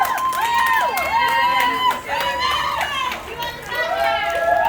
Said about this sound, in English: That's a whole cast of them just giving us a big old cheer.